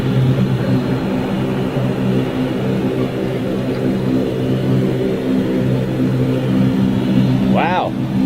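Aircraft passing overhead at a Manchester airport weekend air show, a steady loud engine drone throughout, with voices heard over it.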